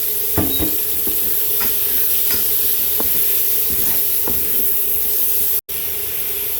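A whole sweet yellow onion and a whole sweet white onion sautéing in a pan, giving a loud, steady sizzle with a utensil tapping and scraping at regular intervals, close by and with no talking.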